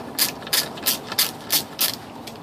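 Quick, steady ratchet clicks, about seven of them, from a wrench loosening the nut on a BMW E39 5-Series wiper arm, close and fairly quiet with no talking.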